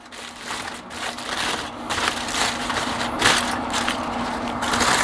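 Wrapped barbecue ribs being unwrapped, with steady crinkling and crushing of the wrapping and brief sharp crackles, continuous and fairly close for the whole stretch.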